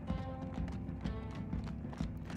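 Hooves of walking horses from the game Minecraft Story Mode clop in a brief, regular pattern, mixed with soft, sustained in-game music at low volume.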